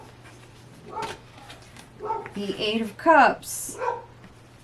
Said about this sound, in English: And I apologize for my dog. You can probably hear him.